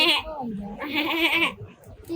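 A person imitates a goat's bleat with a wavering, nasal voice in two bursts, loud and close, during a light-hearted family television show.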